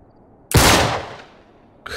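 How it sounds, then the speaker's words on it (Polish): A single loud gunshot fired at a door lock in the video game Uncharted 3, a sharp close blast with a decaying tail, followed by the start of another sound at the end. "Cofnij się, strzelę w zamek!"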